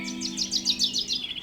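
A flock of birds chirps in a quick, evenly spaced series of bright tweets over a steady low hum, fairly close and clear.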